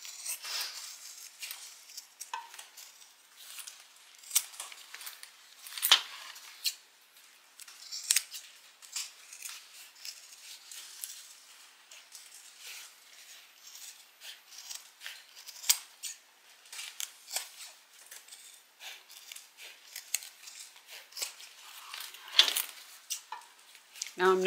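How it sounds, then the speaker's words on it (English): Scissors snip through fabric while trimming back a seam allowance around corners: a long run of crisp, irregular cuts close by, some louder than others, with no talk. "I'm going to cut back the seam allowance in the few places that it needs it, especially around these corners"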